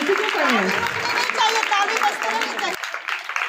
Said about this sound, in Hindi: ताली बजाइए भाई आप लोग